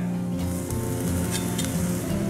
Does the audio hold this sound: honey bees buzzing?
no